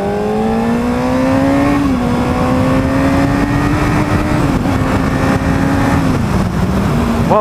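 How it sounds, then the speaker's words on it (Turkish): A 2014 Honda CBR 600RR motorcycle engine revs hard with a loud, close exhaust note, pitch climbing and dropping through several throttle changes and shifts, with no talk over it. "Başka bir motorun egzozunu bu kadar beğendiğimi hatırlamıyorum, egzoz sesini."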